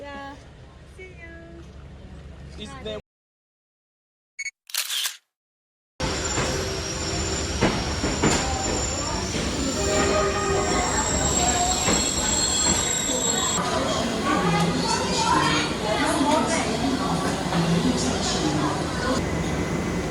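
A train rumbles through a railway station in Vietnam with loud, sustained high-pitched wheel squeal and clanking, after a brief dropout at the start.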